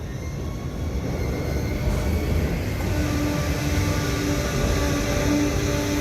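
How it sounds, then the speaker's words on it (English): A train brakes at night on a ride to Hapeville near Atlanta, Georgia: a continuous, loud, close rumble of rail cars with faint high squealing tones rising later, no voices. "Sounds like the train is braking."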